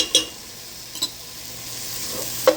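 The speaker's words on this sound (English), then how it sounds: "I'm going to add like a heaping teaspoon of garlic" Garlic tossed into a pan of browning soup vegetables, giving soft sizzling and frying with a few brief stirring clatters, fairly quiet and with no voices.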